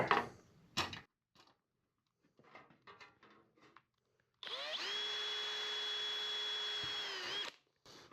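A power drill whines steadily for a few seconds close up, drilling a rivet hole in aircraft engine baffling, after some quiet clicks and handling noises.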